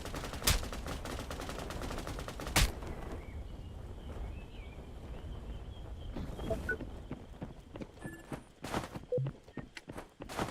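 Video game gunfire aimed at the player, with sharp shots and bursts scattered across the clip, some loud and close and others fainter, over steady game ambience.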